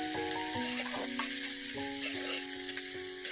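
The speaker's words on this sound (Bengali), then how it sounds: "আমরা এখানে পেঁয়াজ আদা রসুন আর লঙ্কাটাকে হালকা ব্রাউন করে ভেজে নেবো" Onion, ginger, garlic and chili frying in a pan for egg pasta, a steady close sizzle with the occasional scrape of stirring and faint tonal hum in the background, no talking.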